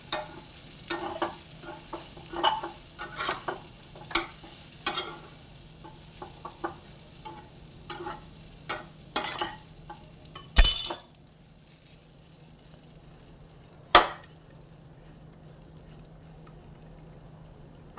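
Khaman mixed with chillies being stirred and fried in a pan, quick scraping strokes and clinks at an uneven pace over a low hum, then a stop with one sharp clatter and a later single knock.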